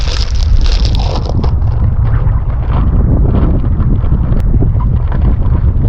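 Strong wind buffets the microphone on open sea during an overnight kayak trip toward a lighthouse, a loud, constant rushing roar with no voices.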